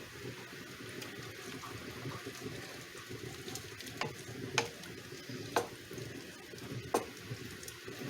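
A spoon stirs sweet pickle relish in a pot, a steady wet churning, sloshing texture throughout with a few sharper scrapes or clinks against the pot, close up and without talk.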